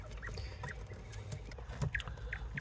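Young northern bobwhite quails and chickens in a coop give short, soft chirping and clucking calls, scattered and fairly close, over a low background rumble.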